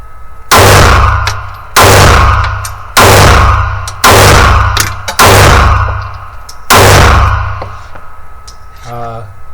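A Canik MC9 Prime pistol fires six loud, sharp shots at steady intervals of about one to one and a half seconds, each with a ringing outdoor tail, followed by a brief metallic clatter.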